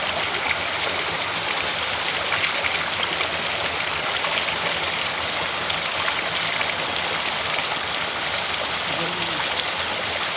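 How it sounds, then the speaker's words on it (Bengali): A waterfall pours in a green natural setting, a steady broadband rush of water filling the scene at an even, loud level. "এই হচ্ছে সবুজ ঝর্ণা"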